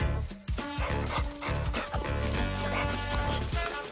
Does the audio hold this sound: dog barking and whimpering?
yes